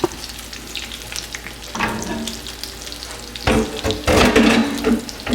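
Food sizzles steadily in a hot pan during a cooking demonstration, with louder bursts of hissing and clatter as pieces are flipped over; no one speaks.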